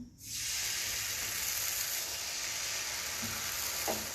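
Dosa batter sizzles on a hot, oiled griddle, a steady close hiss that holds from start to finish, with a few faint clicks near the end.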